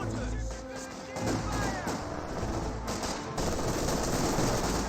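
Bursts of MG42 machine gun fire in the Company of Heroes strategy game sound faint and distant, mixed with other gunfire and battle noise over a busy backdrop.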